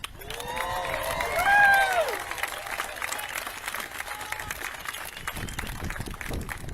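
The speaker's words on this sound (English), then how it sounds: "Another round of applause for our crew as they take their seats." A crowd applauds the Hokulea voyaging canoe crew on their arrival in San Francisco, sustained clapping and cheering with a few whoops rising early and then settling into a steady patter.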